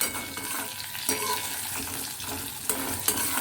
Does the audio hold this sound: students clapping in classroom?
no